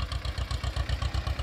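An Escort 335 tractor engine runs steadily nearby, a loud low rhythmic chugging with evenly spaced pulses and no voices.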